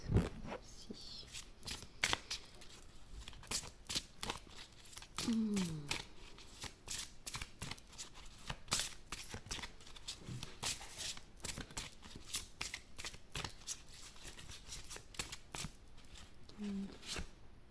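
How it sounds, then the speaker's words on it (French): Tarot cards are shuffled and drawn close by in a steady stream of crisp riffling and snapping flicks. A soft voice speaks intermittently over the shuffling. "Est-ce que je tire une autre carte?"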